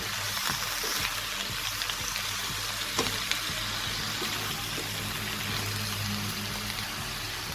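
Mixed vegetables with turmeric and salt sizzle steadily in a hot pan, a dense, even frying hiss with a few faint stirring knocks, close and fairly loud.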